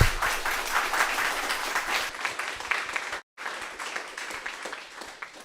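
A crowd at a Python meetup claps after a presentation, loud and sustained broadband applause that continues for about five seconds, broken by one brief cut of silence in the middle.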